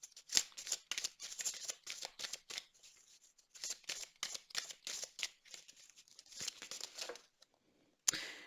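Oracle cards being drawn and shuffled by hand, a quiet, close sequence of crisp rustles, flicks and papery slides in irregular bursts, with a few brief pauses.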